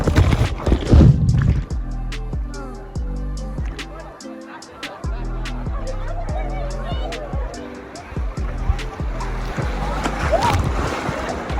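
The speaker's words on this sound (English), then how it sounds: "I keep getting slapped by these waves." Sea waves slap and splash around swimmers at a beach, close and choppy, with bursts of water noise between stretches of excited family talk and laughter.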